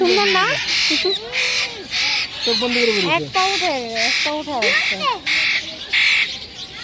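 Loud, harsh bird squawks at Riyadh Zoo repeating in a steady series, close by, mixed with another raspy call throughout.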